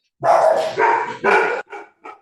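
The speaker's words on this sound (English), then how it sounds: "See, now you scared the dogs." Dogs bark loudly and close by in a quick burst of three full barks followed by two shorter, softer yips, with no talk over them.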